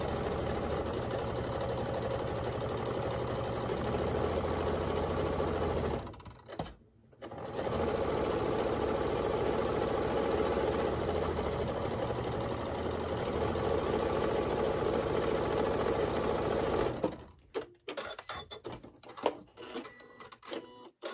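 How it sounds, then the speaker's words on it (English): A sewing machine stitches quilt fabric for a Martha Washington Star block, a loud steady mechanical whir that runs continuously, pauses briefly, resumes, then breaks into short stops and starts near the end. "then I'm just going to start sewing onto my fabric."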